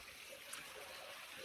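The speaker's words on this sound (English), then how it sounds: "I found the waterfall. You can hear it in the background." A small waterfall in an outdoor setting, heard only as a faint, steady rushing wash of water far in the background, with no voices over it.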